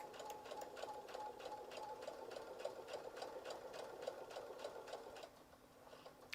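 A sewing machine stitches a fabric face mask along elastic with the presser foot leveled, a quiet, rapid, even mechanical chatter running for several seconds before briefly easing at the end.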